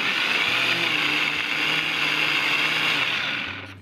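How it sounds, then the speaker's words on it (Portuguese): A kitchen blender whirs loudly through a heavy banana cake batter with flour, a steady high-pitched motor drone with slight strain, winding down at the end. "a banana é uma massa mais pesada para o liquidificador bater"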